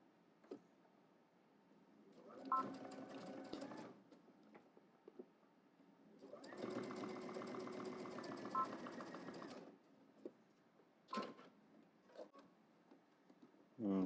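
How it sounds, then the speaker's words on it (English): A home sewing machine runs a straight seam on workout shorts at a 5/8-inch seam allowance, sounding in two sustained whirring bursts with brief clicks and handling noises between them. "we're just going to stitch all the way across using 5/8 of an inch seam allowance without stopping"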